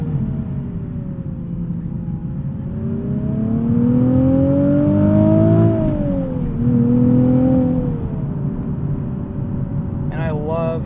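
2020 Nissan 370Z Nismo with a 6-speed manual, engine revving while driving, a steady droning tone rising and falling in pitch over a low road rumble, heard from inside the cabin.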